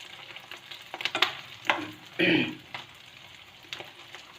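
Potato tikki rolls frying in ghee in a pan, bursts of crackling sizzle rising and falling with stirring and flipping, close and fairly loud, with quieter spitting between.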